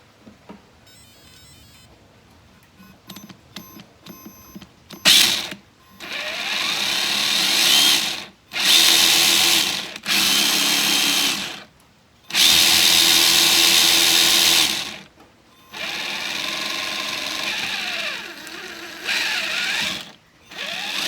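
A Traxxas TRX4 RC car's small electric motor and pinion gear whine in bursts, revving up to a high buzzing gear whir and cutting off between runs, close and fairly loud with brief clicks early on.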